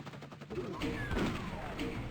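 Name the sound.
gunfire from enemies in a video game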